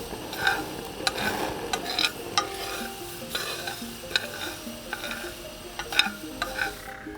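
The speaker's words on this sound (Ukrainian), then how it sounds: "Смажимо також на невеликому вогні, постійно перемішуючи." Hemp seeds sizzling and crackling in a hot pan over low heat while being stirred constantly, with steady frying hiss and regular scraping clicks of a utensil.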